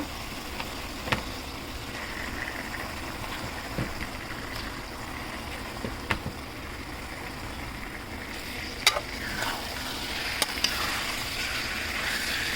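Chicken stir-fries with a spice masala in a pan, making a steady moderate sizzle broken by a few sharp clacks and scrapes of stirring, with no talk.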